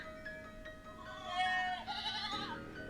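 A goat bleats in a drawn-out, wavering call. The sound is used as an effect in a spoken horror story and is heard alone and fairly faint.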